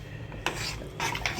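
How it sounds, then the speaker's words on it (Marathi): A spoon stirring dal khichdi mixture with turmeric and salt in a pot, quiet scraping strokes that come in two short bursts after a near-silent start. "मस्त असं मिक्स करून घेते"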